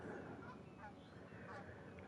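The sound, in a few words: geese honking in Fishing Planet video game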